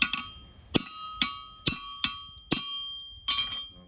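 A farrier's hammer strikes a steel horseshoe while shoeing a Belgian draft horse: six or seven sharp, ringing metallic blows, close and loud, about half a second apart, each leaving a bright ringing tail.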